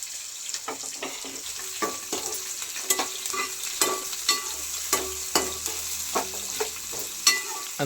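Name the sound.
frying and stirring with green chillies for tomato rice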